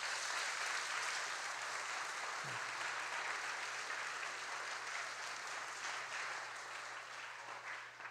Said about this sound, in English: Would you give him one more round of applause?